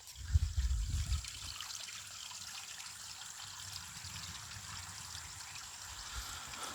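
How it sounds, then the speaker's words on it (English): Water trickles and babbles steadily in a creek running through raw rural land, a soft continuous flow with a brief louder rumble at the start and no voices. "That creek sound, that'll put you to sleep."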